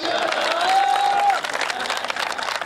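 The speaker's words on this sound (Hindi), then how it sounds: "अग्रवाल साहब के लिए तालियां बजाइएगा जितनी बजानी है" Applause from the audience at a Hindi comedy poetry gathering, a dense patter of clapping that swells briefly and then eases slightly, with a held tone sliding through the middle.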